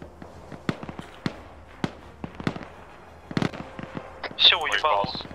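Gunfire and artillery in the Arma 3 military video game: sharp, loud bangs in an irregular series, ending in a harsher, sustained burst, with voices over radio chatter in between.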